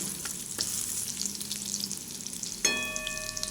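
Garlic frying in hot oil for ridge gourd and masoor lentil dal: a steady, close sizzle with light stirring scrapes, then a sharp metallic clink of a utensil against the pan near the end.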